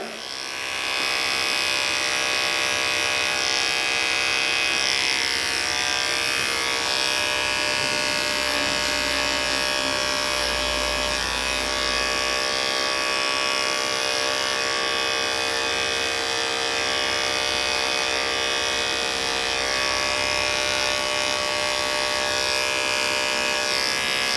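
Electric hair clippers with a 0A blade running continuously while cutting a bald fade guideline, a steady, close, bright buzzing hum that holds throughout.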